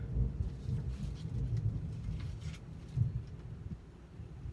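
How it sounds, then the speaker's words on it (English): Distant thunder rolls low and faint over soft rain, the deep rumble swelling and fading twice in a few seconds. "Thunder."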